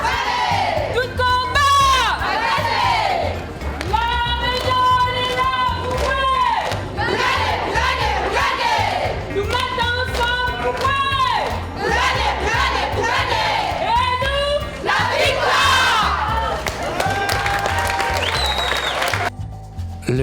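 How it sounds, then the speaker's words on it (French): Women footballers perform a haka, chanting and shouting in loud rhythmic unison with strong voices throughout, a crowd sound and applause-like noise mixed in, ending with a brief drop near the close. "Une petite pause avec le haka des footballeuses"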